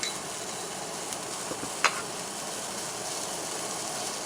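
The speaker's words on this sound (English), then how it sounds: "I'm gonna add the oyster sauce here." Oyster sauce poured into sizzling oil with oysters in a pan while cooking oysters with ginger and green onion: a steady, soft frying hiss with a brief clink partway through.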